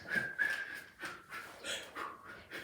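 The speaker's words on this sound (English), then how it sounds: "He whistled as he worked." A man whistles a short tune while digging in sand, the whistle brief and clear at the start, followed by soft breathy, rustling sounds.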